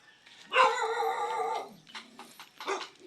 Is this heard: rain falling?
no